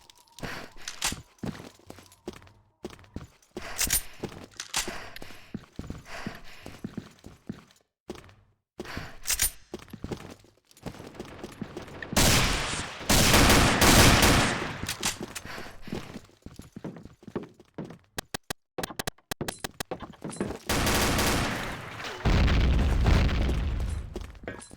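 Gunfire and explosions in the online shooter Combat Arms Reloaded on the Ghost Town map: bursts of rapid shots, sharp single cracks and heavier booms in irregular clusters, loud and close with quieter gaps between engagements.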